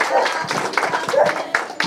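A small audience applauds Maria at a bookshop event, with scattered, moderately loud claps and a lively crowd sound mixed with voices.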